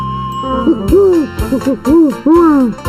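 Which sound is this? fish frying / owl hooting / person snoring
owl hooting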